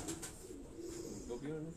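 Pigeons coo in low, soft throaty warbles, several short calls close together, with faint voices in the background.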